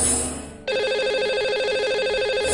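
A telephone rings on a TV call-in show as a line is dialed to a lucky caller, an electronic ringback tone pulsing steadily and loudly after a short hiss of line noise.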